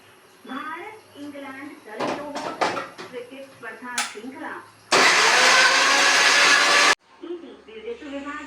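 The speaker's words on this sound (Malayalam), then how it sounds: "എന്നിട്ട് അത് മിക്സിയിലിട്ട് അടിക്കാൻ വേണ്ടു കേട്ടോ" Mixer grinder whirring loudly for about two seconds as it grinds onion, tomato, green chilli and salt, an abrupt start and stop between stretches of someone speaking and kitchen clatter.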